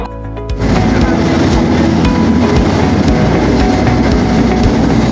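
Aboard the Nilsagar Express in Bangladesh, the train runs along the rails with a loud, steady rumble and rhythmic clickety-clack of wheels, heard from inside the carriage.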